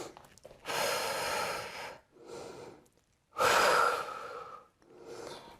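Deep, audible breaths during a yoga session in the downward dog pose: two long, loud exhales alternate with softer inhales, close to the microphone, in a slow, even rhythm.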